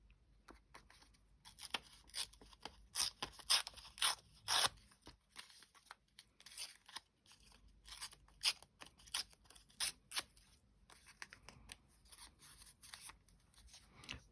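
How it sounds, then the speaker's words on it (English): Paper being ripped by hand for layered craft embellishments, with a series of quiet, close tearing strokes in irregular bursts separated by near-silent pauses. "Ripping paper's quite satisfying, isn't it? It's a great noise."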